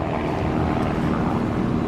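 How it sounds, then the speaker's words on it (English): Airplane passing overhead near an airport, a steady broad low roar that holds loud and even throughout, with no talking. "Please excuse the airplane noise."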